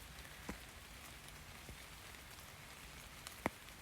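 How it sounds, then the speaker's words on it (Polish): Steady rain patters softly and evenly on surfaces nearby, heard from under a tree, with a few louder individual drops landing close by. "Pada deszcz, a ja stoję pod drzewem i czekam, aż przestanie padać."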